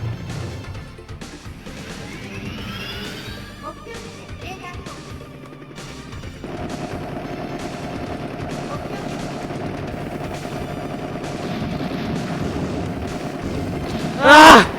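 Rapid arcade gunfire from the Metal Hawk helicopter shooter on PS4, dense continuous bursts under a busy game soundtrack, ending in a sharp louder explosion-like burst.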